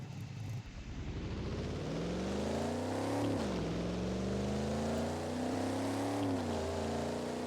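A Chevrolet C1 engine in a video game revs steadily and rises in pitch as it accelerates, with a brief dip and climb, loud and close with no talking.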